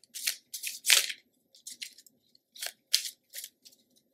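Quick, crisp bursts of a deck of tarot cards being shuffled, papery flicks and riffles in irregular clusters with brief silences between, close and fairly quiet.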